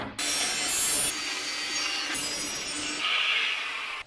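Hand sawing through a piece clamped in a vise while building a vertical drum pedal box, a continuous rasping cut of about four seconds with short pauses between strokes.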